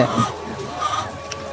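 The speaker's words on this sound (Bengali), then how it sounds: "আমাদের এখানে মুরগি আছে" Laying hens on a layer farm cluck softly and repeatedly close by, with murmuring voices and farm ambience blended in.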